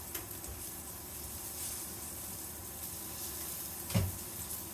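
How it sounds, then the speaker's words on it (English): Butter, about three tablespoons, melting in a pan on medium heat gives a steady, faint sizzle and hiss throughout, with a brief louder pop or crackle near the end. "It says to melt 3 tablespoons of butter in the pan"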